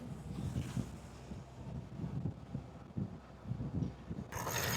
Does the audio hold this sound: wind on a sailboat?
yes